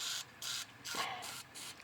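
Penetrating fluid sprayed from an aerosol can into a seized 1971 Briggs & Stratton model 100202 four-horsepower engine, four short hissing bursts with gaps between them, close and soft.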